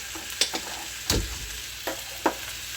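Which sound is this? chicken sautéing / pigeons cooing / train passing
chicken sautéing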